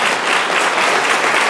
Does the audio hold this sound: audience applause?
yes